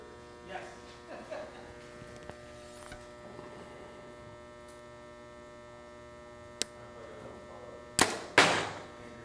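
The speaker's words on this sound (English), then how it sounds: "I'm gonna shoot one of those UV arrows through it" UV 1K arrow shot into a sheet of 3/4-inch plywood indoors, with a sharp crack followed by two loud, close impacts near the end over a steady electrical hum.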